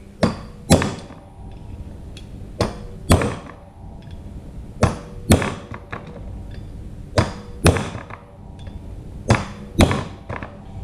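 A 4-pound hammer strikes a flat drift, metal on metal, in about fifteen sharp, ringing blows at an irregular, forceful pace, loud and close with brief pauses between pairs of hits.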